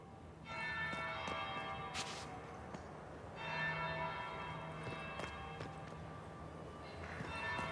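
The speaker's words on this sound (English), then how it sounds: "That would be the second bell." A bell rings in the video game Dragon Age: Inquisition, sounding as a church-like bell with a series of resonant, ringing tolls that decay slowly over a quiet ambient background, moderately far off.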